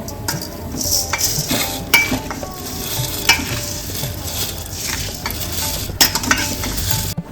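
Rice goes into a pot for village-style chicken biryani and is stirred: a metal spoon scrapes and clinks against the pan in irregular strokes over a soft, continuous sizzle, close and with no talking.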